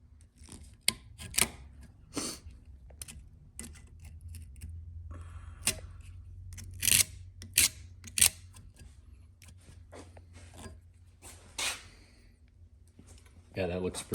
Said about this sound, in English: Let me trim that off with my knife